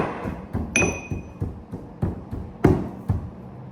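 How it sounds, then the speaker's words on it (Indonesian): Oil palm fruit skins pounded by hand, giving repeated dull thuds at a steady rhythm, close and moderately loud, with a brief high metallic ring near the start and one heavier strike later. "Setelah kita pisahkan, di sini kita tumbuk kulitnya"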